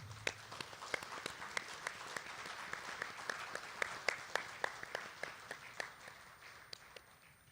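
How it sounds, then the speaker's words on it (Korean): Audience clapping at a Rotary district governor inauguration ceremony, fairly quiet, with a few sharp, evenly spaced loud claps standing out over a softer spread of hand claps. "박수를 부탁드립니다."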